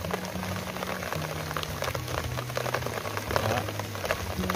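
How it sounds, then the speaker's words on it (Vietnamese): Heavy rain pours down steadily on an open field in rural Vietnam during rat digging, a dense, continuous hiss with a low droning hum underneath. "Quá trời mưa bạn, mưa lớn luôn nè bạn"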